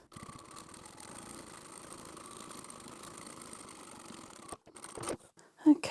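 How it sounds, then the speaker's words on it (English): A sewing machine runs a seam with a rapid, steady mechanical chatter for several seconds, then stops, followed by a few louder handling knocks and rustles. "I'm going to start at this mark that I've made and sew all the way to the end"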